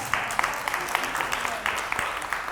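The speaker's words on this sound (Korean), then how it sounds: "처음으로 요거는 박수 받을 만도 한 일인 것 같습니다" A lecture audience gives light, fairly quiet applause after an actor's story about winning a top prize at a Gwangju broadcasting contest. The patter of claps is dense and steady throughout, with a faint voice underneath.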